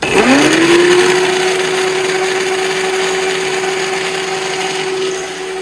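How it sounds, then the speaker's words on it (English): A Silver Crest blender motor, powered from solar, spins up quickly and then drones steadily at a loud, constant pitch, running without pause throughout. "The blender is running"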